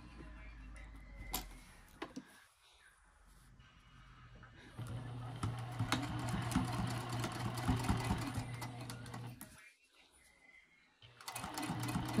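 Sewing machine stitching a vinyl seam at a 1/4 inch allowance with a 2.5 mm stitch length, a close rapid mechanical whir running steadily for several seconds between quieter pauses and handling clicks.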